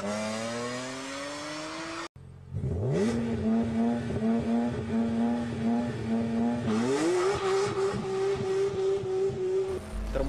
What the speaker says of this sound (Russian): Тачки ускоряются очень быстро.